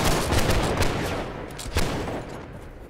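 Musket gunfire in the video game Holdfast: Nations At War, a dense rolling fusillade of overlapping shots, loud and sustained, with one sharper crack standing out near the end.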